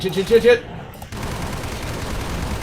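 Sustained rapid gunfire in the Maps of Chaos video game, a dense continuous rattle that kicks in after a short burst of voice and holds steady to the end.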